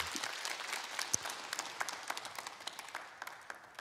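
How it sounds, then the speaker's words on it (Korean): Audience at a lecture on building a happy marriage applauds steadily for about four seconds, many hands clapping in a dense, even patter that fades slightly toward the end. "동의하시면 박수 한번 주세요."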